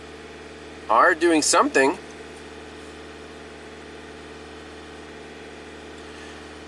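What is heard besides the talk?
Hyundai engine held at 2200 RPM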